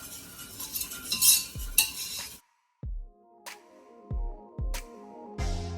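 Flour being whisked into melted butter in a pan for mac and cheese roux, with sharp metallic clinks and scraping strokes coming in uneven bursts, separated by short pauses.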